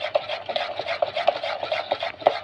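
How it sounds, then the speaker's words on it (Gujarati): Semolina cake batter mixed with curd is stirred briskly in a bowl, a close, rhythmic series of wet scraping strokes repeating quickly and steadily, with no talk. "બધું એકદમ એક સરખું મિક્સ થાય ત્યાં સુધી હલાવવાનું"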